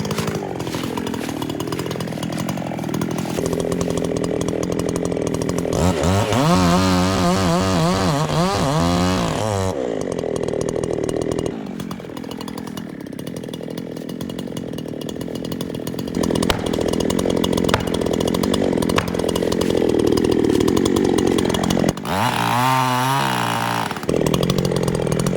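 Steady, loud chainsaw roar fitted with a firewood chain, bucking wood, with the engine bogging and rising as it cuts through logs continuously.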